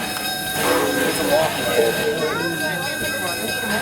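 Omaha Zoo Railroad train in motion, a steady rolling rumble with squeals and a faint horn-like tone, while voices talk aboard.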